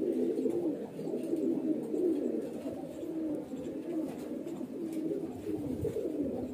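Highflyer breeder pigeons coo continuously in soft, low, rolling calls that overlap close by, with no speech over them.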